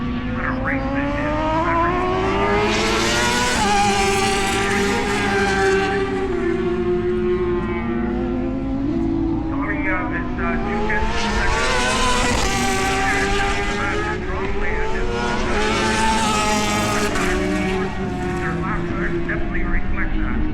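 Race cars lap Shannonville track in Ontario, engines droning loudly with repeated rising and falling pitch sweeps as they pass, under continuous race commentary.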